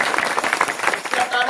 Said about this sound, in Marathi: टाळ्या वाजवा बरं